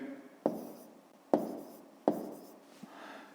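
Three quiet, evenly spaced taps and strokes of a pen writing numbers by hand on paper, each mark starting with a soft click and trailing off into a brief scratch.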